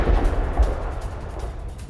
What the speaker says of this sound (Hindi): अभी अभी ये धमाका हुआ है और देखिए धमाके के बाद कैसे बड़ा विस्फोट होता है।